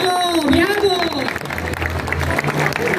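A festival crowd at La Inmaculada in Santo Tomé, Santa Fe, applauds a singer; clapping and crowd noise swell under a loud, gliding announcer's voice, then continue as a steady patter.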